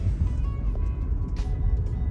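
Steady low engine and road rumble from inside a car on the move, with soft faint ticks above it and no one talking.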